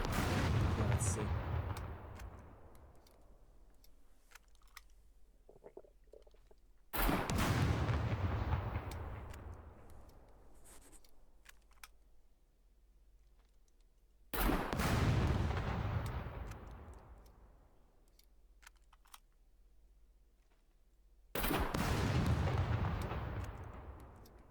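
Four heavy booms from grenade launcher rockets fired at turrets in the game SCUM, each a sharp loud blast that rumbles and decays for several seconds before the next, spaced about seven seconds apart.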